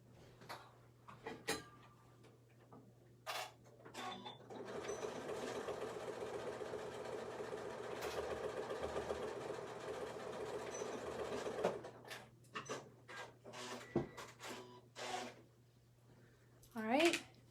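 A sewing machine stitches a small beginner's mini tote bag in one steady, fast-whirring run of about seven seconds, with scattered handling clicks and brief talk before and after.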